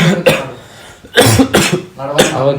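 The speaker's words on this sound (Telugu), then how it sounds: "దగ్గు కూడా వస్తుంది" Someone who is unwell coughs in three separate harsh bursts, with throat clearing between them, loud and close against a quiet room.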